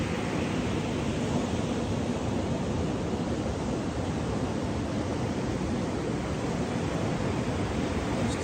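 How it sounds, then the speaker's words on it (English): Steady broadband roar of ocean surf at sunset, a continuous wash of breaking waves with no distinct individual crashes, filling the whole stretch without any voices. "Hear the ocean in the background."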